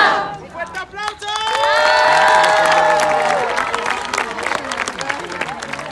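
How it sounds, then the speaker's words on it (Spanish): A campfire group at summer camp breaks into loud applause and cheering after a chant, with shouting voices and whistles rising over dense clapping that builds and holds steady. "Un fuerte aplauso."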